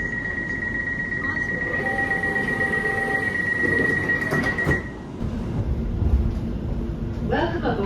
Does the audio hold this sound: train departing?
yes